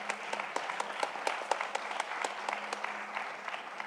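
An audience applauds two armed forces members, steady close clapping from a modest crowd with distinct individual claps throughout.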